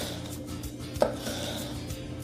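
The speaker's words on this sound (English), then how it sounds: "I'm just going to slice lengthwise" A knife slices a red and a green vegetable lengthwise on a board, with one distinct, close cutting knock amid faint kitchen background.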